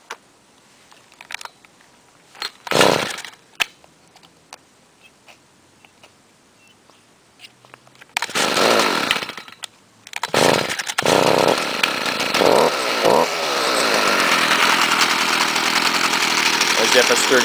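Gas string trimmers are started one after another, with short pull-start bursts and sputters before one catches and settles into a steady, loud running whine close by.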